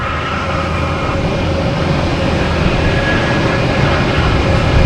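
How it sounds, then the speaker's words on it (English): A JetBlue Airbus A321 arriving from Cleveland at Boston Logan Airport makes a loud, steady broadband jet roar that swells slightly toward the end, heard alone without talking. "That JetBlue came in from Cleveland, an A321"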